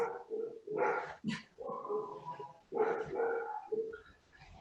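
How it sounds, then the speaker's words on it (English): Several dogs bark in bursts from inside a home while a window cleaner works, the barks coming in repeated clusters and fairly close, filling most of the moment. "Can you hear my dogs?"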